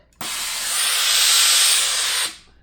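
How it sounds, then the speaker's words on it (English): A loud, steady burst of hissing steam from a Rowenta DG8624 garment steam station lasts about two seconds, then cuts off abruptly. "My Rowenta Steam Station"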